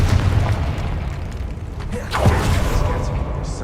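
The Confringo spell in Hogwarts Legacy sets off a deep, rumbling boom with a sharp burst near the midpoint, a loud, full-bodied blast that rolls on under the game's background sound.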